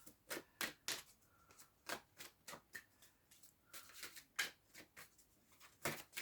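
Tarot cards being shuffled by hand, a series of quiet, crisp riffling bursts at an irregular rhythm, close and soft with no talk.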